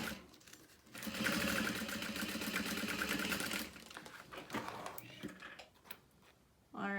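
A sewing machine stitching a zipper onto a handbag pocket: a quick, rapid mechanical whirring burst of stitching for about three seconds, then scattered clicks and handling sounds close by.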